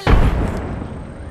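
Frag grenade explosion in the Apex Legends video game, a single loud boom with a sharp onset and a rumbling decay lasting over a second.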